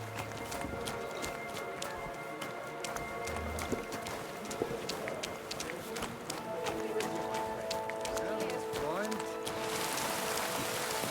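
Rain falling in the medieval game Kingdom Come Deliverance II, a steady soft hiss of a downpour under clip-clopping hooves and a sustained musical drone, with voices talking over it.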